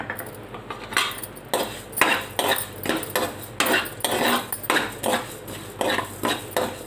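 Coriander seeds and cumin being dry-roasted in a pan for a spice powder, stirred with a metal spoon in a steady run of rhythmic scraping clinks, close and continuous with no talking.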